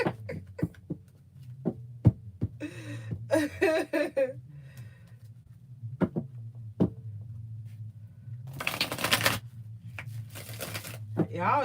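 Playing cards are shuffled in two loud, dense rustling bursts of riffling during a live astrology reading, separated by soft taps and handling noises over a low steady hum.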